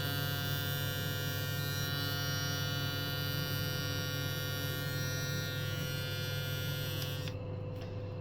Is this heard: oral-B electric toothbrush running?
yes